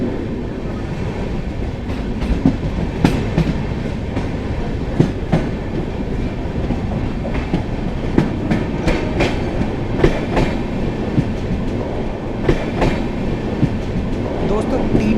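Samta Express train rolling slowly through Ghazigarh Road Junction station, with steady wheel rumble and rhythmic clickety-clack over rail joints. Occasional sharper clanks punctuate the continuous close-up noise.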